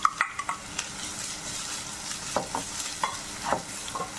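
Grated carrot tossed into golden fried onions in a pan, sizzling steadily with a run of spatula stirs and scrapes, close up and without talk.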